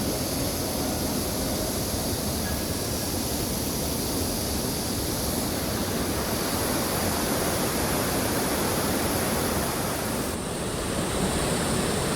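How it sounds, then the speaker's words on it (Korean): A small waterfall flows beneath a swaying suspension bridge at Suju Palbong, making a loud, continuous rushing roar that holds steady throughout with no voices. "출렁다리 아래로는 이렇게 아주 작은 폭포가 흐르고 있습니다."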